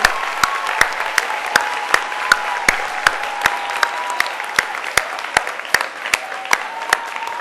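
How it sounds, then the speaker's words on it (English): Sustained applause from an audience at a nonprofit group's opening meeting, a dense, steady patter of many hands with a few sharper claps standing out, continuing for the whole stretch without talk. "Give yourself an applause."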